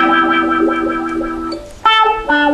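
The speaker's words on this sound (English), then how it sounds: "You might have noticed that I was using a wah-wah pedal then" Electric guitar played funk style through a wah-wah pedal, a short run of sustained effected notes with a sweeping filtered tone, loud and close, followed by two sharp stabbed chords.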